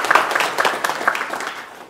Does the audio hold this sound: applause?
yes